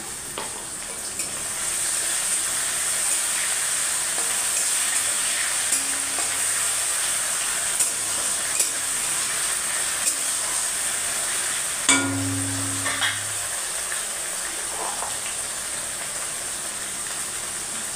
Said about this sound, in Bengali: টমেটোটা দিয়ে একটু নুন দিয়ে দেবো, টমেটোটা যাতে তাড়াতাড়ি নরম হয়ে যায়।